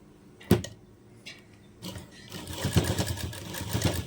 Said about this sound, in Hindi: आपको सिलाई करके ही दिखाते हैं हम